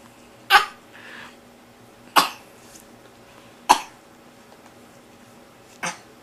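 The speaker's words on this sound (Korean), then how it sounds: "기침했어요?" Four short, sharp coughs from a child, each separated by a second or more of quiet, fairly close and loud, with no talking.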